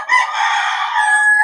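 A Boston Roundhead rooster at a backyard breeder's yard crows once, loud and close, a sustained bright call filling the moment on its own.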